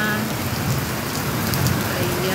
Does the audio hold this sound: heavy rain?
yes